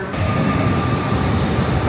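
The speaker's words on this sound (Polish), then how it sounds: "za chwilę mój pociąg będzie wjeżdżał na peron 3" Koleje Śląskie passenger train rumbles steadily and loudly as it pulls in at a platform, a dense continuous rolling roar with a faint high tone, no talking.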